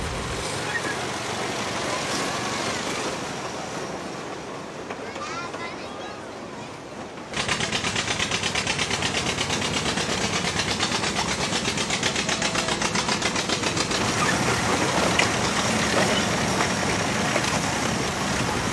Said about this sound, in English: the engine is an old Wisconsin